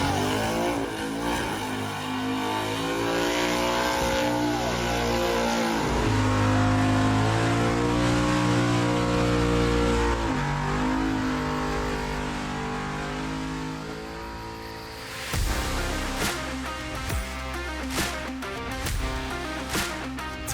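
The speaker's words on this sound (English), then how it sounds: "Jack Stand has wrapped up the Summit box truck with the 632 big block." A loud 632 big block engine in a box truck roars and revs, its pitch climbing and falling in sweeps, then settles into rougher bursts of throttle toward the end.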